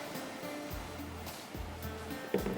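Capsicum and other vegetables sizzle in hot oil in a pan for green tarka rice, a steady crackling hiss with small pops running throughout.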